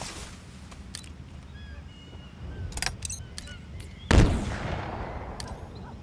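Gunfire in the Halo Infinite video game, a few sharp shots in a busy mix followed by a loud blast near the end, with close sounds of combat.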